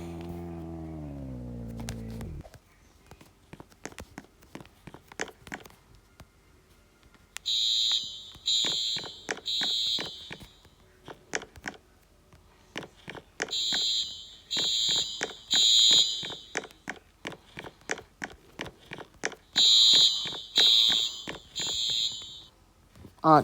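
A video game fire alarm rings in repeated bursts of shrill electronic beeping, separated by short pauses and set over a steady ticking, clicking background.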